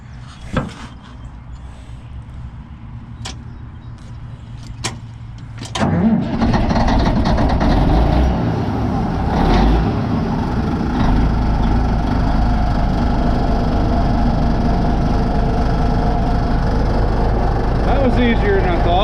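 A Caterpillar D8N bulldozer's diesel engine cold-starts with a jump pack: a few sharp clicks and cranking, then the engine catches and settles into a loud, steady, rumbling idle close by.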